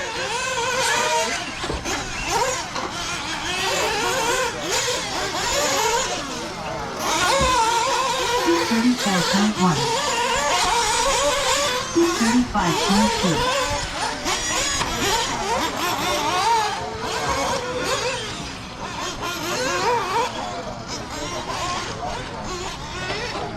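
An RC car runs laps on the 400 RC Raceway track, its small motor whining and surging as it speeds up and slows through the course, while someone talks throughout.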